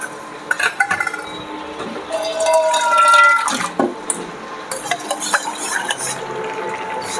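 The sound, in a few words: pouring a little water into cooking chili soybean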